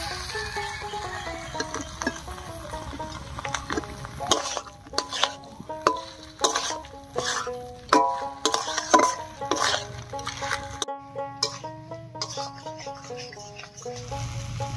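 Fried potatoes are added to a batter of ground rice and water and stirred in a pan, giving repeated wet scraping and clacking strokes with a faint sizzle underneath, moderately loud and close.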